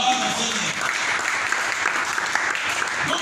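A church congregation breaks into sustained applause, a dense, steady clapping that fills the room, with voices calling out beneath it.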